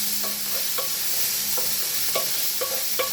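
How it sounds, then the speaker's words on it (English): Bacon and vegetables sizzle in a pan for macaroni cheese while a utensil stirs and scrapes through them in a few irregular knocks, under a steady close frying hiss. "I'll give that another stir, that should be ready to go."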